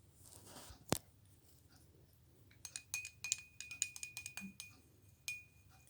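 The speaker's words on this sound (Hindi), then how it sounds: "इसके अंदर मैं इसको एक विषमांगी मिश्रण बनाती हूँ, उसमें थोड़ा सा चॉक पाउडर मिक्स करती हूँ।" A spoon clinks against a glass while chalk powder is stirred into water, a single sharp knock followed by a busy run of light, rapid ticks and taps close by, with no talking.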